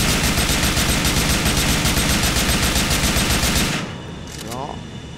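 AK-74 rifle firing in a Medal of Honor weapon mod for GTA IV: a loud, sustained automatic burst of rapid shots for nearly four seconds, then abrupt quiet with a faint mechanical clink.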